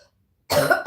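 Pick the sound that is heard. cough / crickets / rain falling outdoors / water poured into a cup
cough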